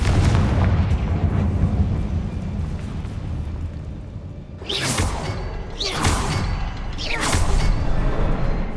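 Confringo explosive spell blasts in the video game Hogwarts Legacy: three loud whooshing bursts in quick succession, each flaring into a booming crack over a dense, rumbling battle backdrop.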